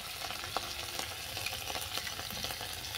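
Ginger paste frying with garlic paste in oil for a fish curry, a quiet steady sizzle with light scraping stirs and small pops, close but faint, no voices.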